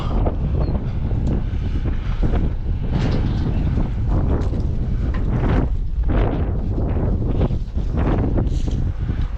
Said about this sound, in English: Boy, this wind is not fun up here today.